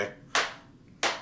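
Two sharp hand claps, close and fairly loud, spaced about two-thirds of a second apart with quiet between them, practicing a song rhythm.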